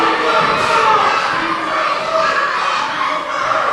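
A loud, patriotic crowd at a professional wrestling show in West Virginia cheers and shouts without pause, a dense, roaring wall of voices filling the arena.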